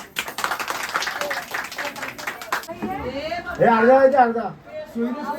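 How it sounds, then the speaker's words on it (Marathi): Hand clapping from a small group at a family gathering in Kalyan Koliwada, brisk and close for the first few seconds, then stopping as people talk and sing over each other. "टाळ्या वाजव रे."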